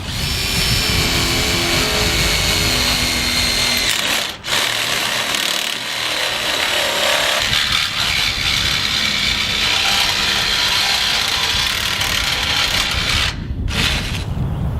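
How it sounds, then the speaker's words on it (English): A power drill bores through a greenhouse end wall and ridge beam, down into the hoop, in a steady, loud, continuous whine with rough grinding texture and two brief pauses, no talking. "we're going to drill through this end wall, through the ridge beam, and down through the hoop"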